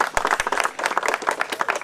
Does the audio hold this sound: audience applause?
yes